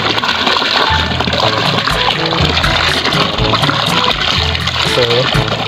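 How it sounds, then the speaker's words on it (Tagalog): Water gushes and splashes continuously from a hand pump on a small farm, a loud rushing flow with gurgles, while voices talk faintly underneath. "Ang poso namin malinaw ng tubig."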